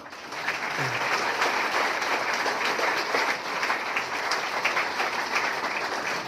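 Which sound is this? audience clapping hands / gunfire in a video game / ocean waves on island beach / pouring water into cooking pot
audience clapping hands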